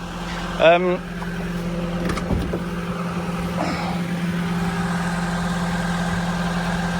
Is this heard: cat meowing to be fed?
no